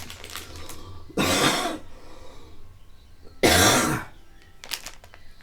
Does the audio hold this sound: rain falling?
no